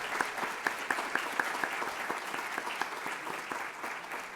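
A lecture audience applauds, a steady patter of many hands with a few sharper claps standing out, fading slightly toward the end.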